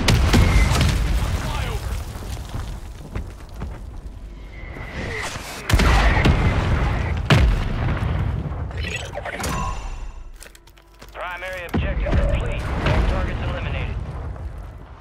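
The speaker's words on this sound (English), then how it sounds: "Mortar strike is inbound." Mortar strike explosions in the Warzone video game, a series of loud booming blasts with rumbling low ends, several sharp impacts spread across the span, mixed with game effects and voices talking over them.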